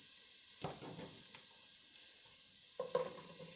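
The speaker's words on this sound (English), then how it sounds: "We're going to get these onto a kind of a soft saute." Celery and radishes sauté in a pan with a quiet, steady sizzle, broken by a few soft scrapes and clunks as they are stirred.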